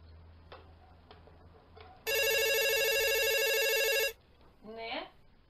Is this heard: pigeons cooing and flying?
no